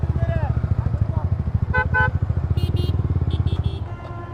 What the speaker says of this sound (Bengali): ওই জায়গা থেকে আমরা সবগুলা বাইক বের হইতেছি রাস্তায়